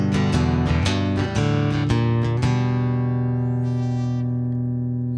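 Guitar plucking the short bass line of a song in a lesson, a quick run of picked low notes then a held ringing chord that fades, alone and close.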